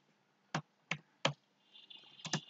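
Keys on a computer keyboard are struck in three separate, spaced clicks, then a quicker cluster of taps follows, close and fairly quiet, with no talking.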